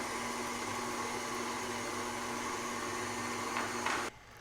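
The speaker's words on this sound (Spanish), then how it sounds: "detengo la batidora en cuanto está todo incorporado" An electric stand mixer runs steadily while mixing cake batter with oil, eggs and vanilla, a constant close motor whine that stops abruptly near the end.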